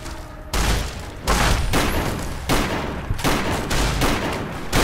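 Loud, repeated shotgun blasts from Fallout New Vegas go off in quick succession, each boom sharp and close, with brief gaps between them and no talk.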